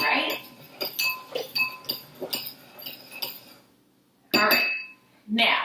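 A spoon stirs salt into liquid in a bowl, giving a series of light clinks and scrapes against the bowl in an irregular rhythm, with a pause and then a couple more taps.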